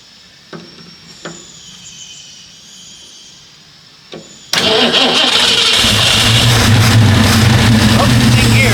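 A Mustang car engine with empty carburetor float bowls makes its first start: a few faint clicks and a starter bump, then the engine catches and runs loudly and steadily up close.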